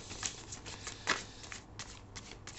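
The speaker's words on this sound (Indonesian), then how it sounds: "Kita kan coba ambil satu kartu lagi ya." Tarot cards are shuffled and drawn by hand, a run of soft, crisp riffling snaps and slides close up, with one sharper flick in the middle.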